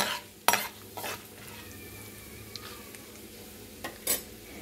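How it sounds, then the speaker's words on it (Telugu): Tempering seeds frying in oil for an amaranth and moong dal stir-fry, a faint steady sizzle broken by a few sharp spoon-on-pan stirring scrapes, no talking. "చక్క తాలింపు గింజలు మంచిగా వేగాలండి"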